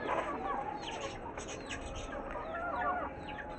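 Broody hens clucking as they are let out of their coop, a steady low clucking with occasional higher calls over soft background noise at moderate distance.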